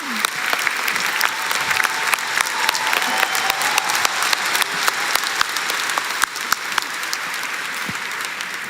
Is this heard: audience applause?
yes